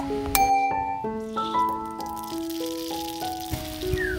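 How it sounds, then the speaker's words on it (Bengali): Radhuni seeds and a dried red chili tempered in the hot oil left from frying mourala fish, giving a steady close sizzle with light rattling crackles and a few sharper pops, no talking. "ওই তেলের মধ্যেই একটু রাঁধুনি আর একটা শুকনো লঙ্কা ফোড়ন দিয়ে দেবো।"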